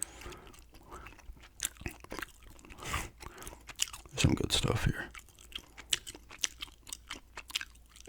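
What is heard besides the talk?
gum chewing, ASMR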